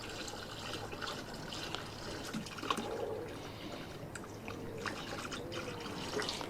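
Water trickling and splashing as it fills a tank to the brim, a faint steady flow with occasional drips, heard close with no talk.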